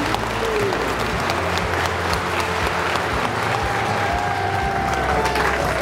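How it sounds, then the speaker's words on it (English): Wedding guests at a Cotswold Water Park ceremony break into warm, sustained applause for the newly married couple, a dense crowd of clapping hands close by with a few faint cheers mixed in. "I think we ought to give them a round of applause."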